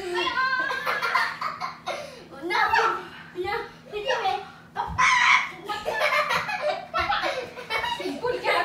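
Hens cluck inside a chalet in scattered bursts, mixed with people laughing and talking close by.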